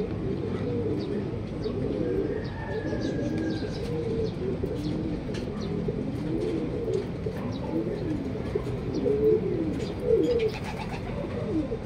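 Racing pigeons at a club training session in Luisiana, Laguna coo steadily in low rolling phrases as they land, with faint chirps and occasional wing flutters over a continuous background murmur.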